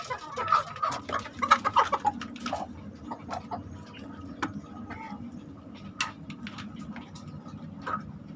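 Native village chickens (ayam kampung), a flock of breeding hens, cluck and call repeatedly at close range in a home-scale coop, with busy overlapping bursts early that settle into scattered clucks over a steady low background hum.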